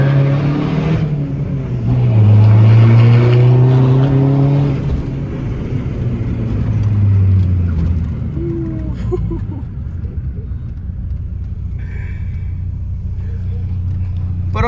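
A Volkswagen Polo 1.9 TDI diesel engine accelerates hard, a loud steady drone that climbs in pitch through the gears, with people talking over it inside the car.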